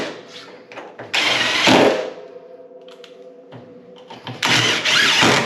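Screws are driven back into a refrigerator door with a power driver, in two loud whirring bursts separated by quieter handling noise.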